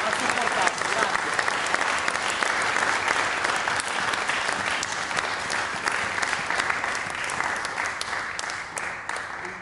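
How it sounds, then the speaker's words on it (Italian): Concert audience applauding at an outdoor summer music event, sustained dense clapping for several seconds, loud and close, with a faint voice briefly underneath. "un applauso a voi che, nonostante il caldo, siete qui a supportarci"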